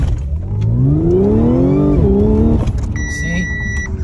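A car, fitted with an upgraded throttle body, launches hard with its engine revving in a rising, loud sweep, then the power suddenly falls away and the engine note drops and flattens before a faint whine lingers.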